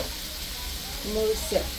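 Turmeric paste added to a pan of fried potatoes for a hilsa fish curry, a soft continuous sizzle with a brief stir near the end, fairly quiet.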